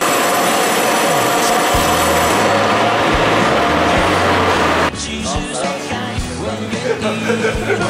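Steady rumble and rattle inside a moving passenger train on a rail trip around Taiwan, with voices talking over the noise and the tone shifting partway through.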